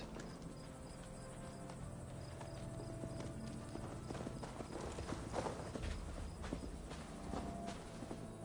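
Steady clip-clop of horse hooves during riding in Assassin's Creed Valhalla, a rhythmic walking gait heard softly and close over a faint ambient bed with insect chirps.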